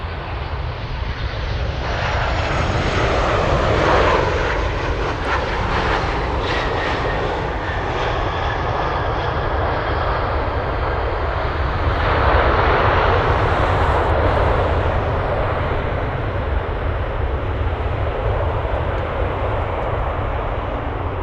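A Boeing 737-800 arrives at Anchorage airport in windy conditions, its engine roar loud and steady from start to finish, swelling slightly around the middle with no voices over it.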